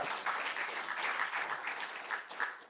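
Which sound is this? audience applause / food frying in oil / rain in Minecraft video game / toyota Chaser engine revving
audience applause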